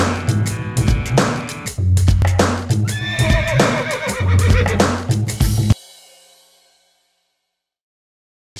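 A horse in a Western riding setting whinnies repeatedly over clip-clopping hooves, the sounds dense and lively before cutting off abruptly into near silence.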